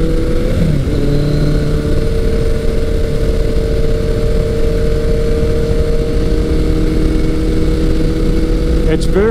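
A 1983 Kawasaki GPZ 1100 motorcycle being ridden gives a loud, close, even engine hum with rushing wind noise, holding a steady pitch for several seconds.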